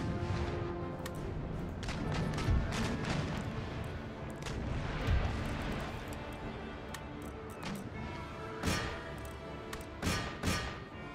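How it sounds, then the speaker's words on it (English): Sailing warships in Empire Total War fire cannon broadsides during a naval battle, a rolling run of booming shots and thuds spread across the whole stretch, some near and heavy, others softer and more distant. "San Juan's going to soak up some cannon shots from Asuncao"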